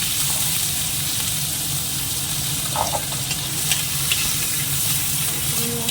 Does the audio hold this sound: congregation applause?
no